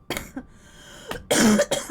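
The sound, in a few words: cough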